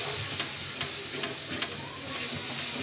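Chopped tomatoes stirred with turmeric in a pan over browned onions: a continuous close hiss of frying with soft, repeated scraping strokes of a spoon, steady throughout and free of talk.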